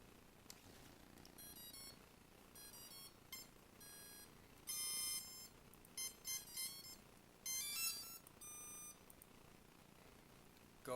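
Electronic speed controllers on a CX20 quadcopter emit a series of short, high-pitched beeping tones from the motors after the battery is plugged in, with repeated bursts of melodic bleeps over a quiet background.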